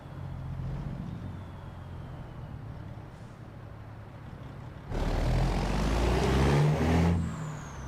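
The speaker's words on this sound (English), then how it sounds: "Plus you really get to hear that engine." A Peterbilt 389 truck engine in American Truck Simulator drones at a low idle, then swells louder as it revs and accelerates, a heavy mechanical rumble with a brief hiss.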